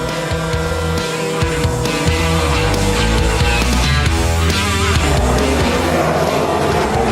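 Daniel Ricciardo's Formula 1 race car enters the pits while leading the race, its loud, close, high-pitched engine note shifting and wavering as it slows.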